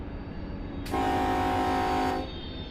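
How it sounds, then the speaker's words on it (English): An Amtrak passenger train in Run 8 Train Simulator passes amid steady rail rumble, its loud horn blaring for just over a second and then cutting off abruptly. "there's the Amtrak train going the other direction"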